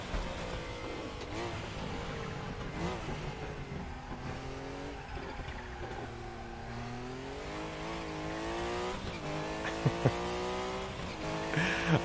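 A Group C race car in RaceRoom Racing Experience laps the Bilster Berg circuit, its engine loudly revving up and down through gear changes, with brief tire squeals near the end.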